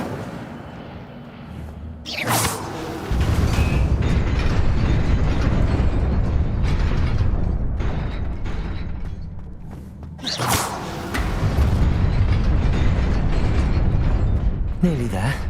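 Incendio fire spell cast in Hogwarts Legacy: loud whooshing bursts of flame erupt twice in heavy roaring rushes, set against mechanical rumbling, with a voice heard briefly.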